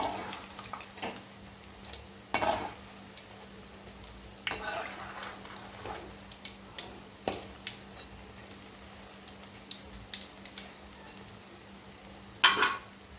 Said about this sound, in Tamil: சுவையான வெங்காய போண்டா வெந்துக்கிட்டு இருக்கு.